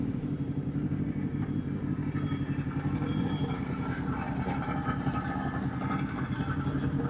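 A motorcycle engine runs steadily throughout during a winter ride, a continuous close rumbling drone with wind noise layered over it and no talk.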